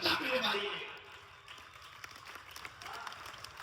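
Audience applause bursts out at a Hindi poetry recital, loudest in the opening second, then thins into scattered clapping and crowd noise that lingers faintly to the end.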